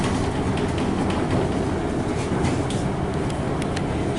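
A Melbourne HCMT high capacity train is in revenue service between Dandenong and Hallam. A steady, loud rumble with rattling fills the cabin, and faint clicks come from the track.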